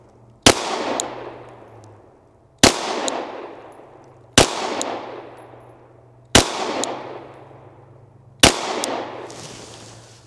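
Glock 49 pistol firing Federal 115 grain ammunition on a range: five loud, sharp single shots about two seconds apart, each followed by a ringing, fading tail.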